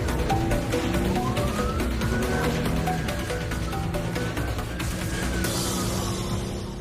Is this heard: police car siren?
yes